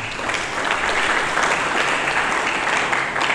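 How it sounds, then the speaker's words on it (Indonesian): A church congregation gives lively applause during a sermon, continuous brisk clapping from many hands at steady volume throughout. "Mari kita berikan tepuk tangan yang meriah."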